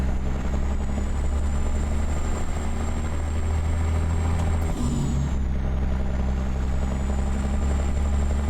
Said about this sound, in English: now we'll drop that trailer axle